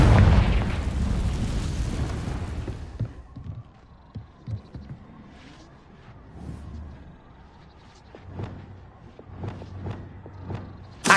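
A Confringo spell explodes in the Hogwarts Legacy video game with a loud deep boom that rumbles and decays over a few seconds, followed by quieter thuds and scattered hits.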